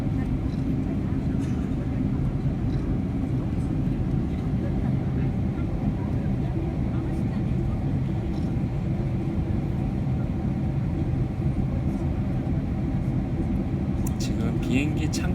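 Airplane cabin engine noise heard from a window seat beside the wing and engine: a loud, steady low roar and rush that holds constant throughout.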